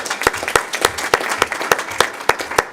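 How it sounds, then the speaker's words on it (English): Applause at a city council meeting from a small group, a handful of distinct hand claps in a fairly regular rhythm over a light clapping background, moderately close. "I think that deserves some applause."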